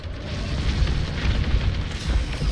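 Rocket launched from a starfighter in Star Wars Squadrons, a dense continuous booming roar with rolling explosive bursts, loud and close throughout.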